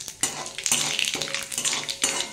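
Black cumin seeds and bay leaf fry in hot oil in a pan, a close sizzle broken by repeated metallic scrapes and clinks of a spoon stirring against the pan.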